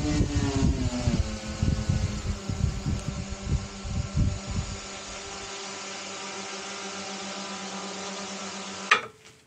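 A VTOL nacelle motor and propeller run on a thrust test at 50% throttle: a steady electric motor whine and propeller drone holds for several seconds, with gusty buffeting early on, before a sharp click near the end.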